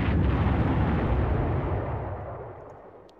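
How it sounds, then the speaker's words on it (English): Artillery fire in the video game Panzer Corps, a single loud, broad blast that rumbles and slowly fades away over a few seconds. "This artillery they have."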